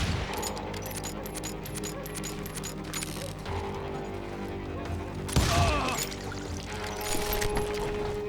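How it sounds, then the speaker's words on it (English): Street gunfight in the Call of Juarez: Gunslinger western shooter: rapid bursts of gunfire and mechanical clatter over a busy game soundscape, with a louder, sharper volley near the middle. "They're shooting in the street."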